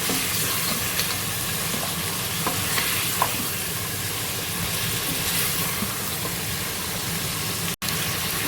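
Ingredients for Lahori aloo gosht fry in a pan, a steady, fairly loud sizzle with faint stirring taps throughout and a brief cut near the end, with no talking.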